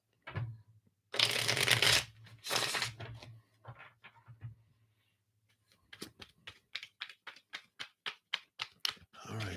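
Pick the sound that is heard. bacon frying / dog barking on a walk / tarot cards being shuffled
tarot cards being shuffled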